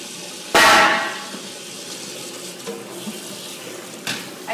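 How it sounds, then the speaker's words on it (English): Cold tap water bursts out over cooked pasta in a sink, a sudden loud gush that fades into a softer trickle, followed by a few faint clinks and splashes. "I'm going to hit it with cold water to stop the cooking process."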